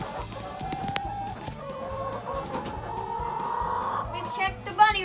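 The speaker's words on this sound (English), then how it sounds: "Chickens are roosting early today." Chickens on a West Virginia farm cluck and murmur in rapid, rhythmic bursts while settling to roost on a cold evening, close and steady, with an occasional higher call near the end.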